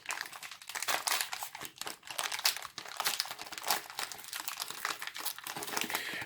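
Plastic wrapping around crackers from a 2011 United Nations 24-hour ration crinkles and crackles continuously up close as it is handled and opened, with no talking.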